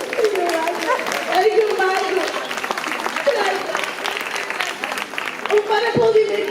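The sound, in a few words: audience applause at carnival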